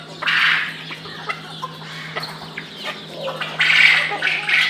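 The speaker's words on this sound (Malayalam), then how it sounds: "ഇത് ഇറ്റാലിയൻ വൈറ്റ്." An Italian White chicken clucks in short scattered bursts close by on a poultry farm, over a steady background hum, with a louder cluster of calls toward the end.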